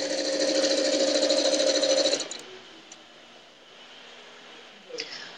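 Sewing machine stitching quilt fabric pieces for a rail fence quilt, a loud, steady, close whir that cuts off after about two seconds, leaving quiet room tone with a few faint clicks.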